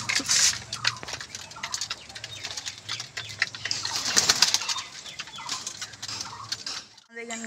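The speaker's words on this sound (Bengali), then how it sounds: "ওই দেখো পায়রা বেরোচ্ছে," Pigeons let out of a bamboo coop, bursts of wing flapping with soft cooing and chicken clucks nearby, uneven and close.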